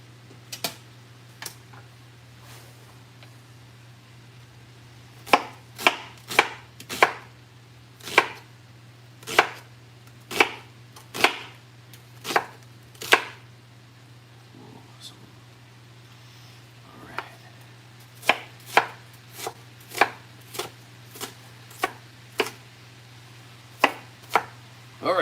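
A knife chops onions on a cutting board in close, crisp strikes. The cuts come in irregular bursts, and a short quiet gap separates the two runs.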